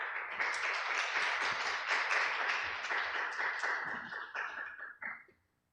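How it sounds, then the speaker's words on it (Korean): Seminar audience at a church school-ministry gathering claps to welcome a visiting middle-school teacher, a sustained round of many hands that holds steady for several seconds, then thins and trails off into quiet. "다들 큰 박수로 환영해 주시면 감사하겠습니다"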